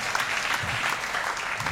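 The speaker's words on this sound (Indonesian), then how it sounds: "tepuk tangan buat Tuhan Yesus" A church congregation applauds during a worship service, a dense, steady clapping that runs loud and continuous throughout with no talk over it.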